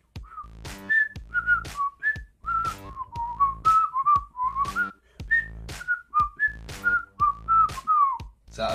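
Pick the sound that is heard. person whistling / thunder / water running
person whistling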